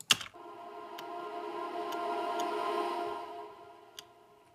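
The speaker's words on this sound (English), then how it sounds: "we've got a lot of these reverse vocals." Reversed vocal snippets drowned in heavy reverb swell into a sustained, washy tonal pad that builds and then fades, with soft ticking clicks keeping time at a steady pulse.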